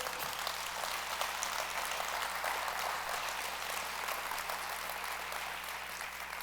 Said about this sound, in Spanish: Vamos a darle un aplauso a Dios.